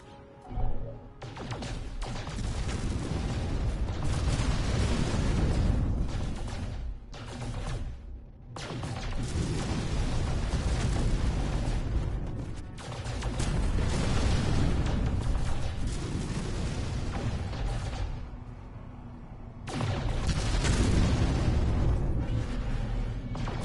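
Asteroids bursting apart under ship weapon fire in No Man's Sky, a run of loud rumbling explosions in several long waves separated by short lulls, with no talk.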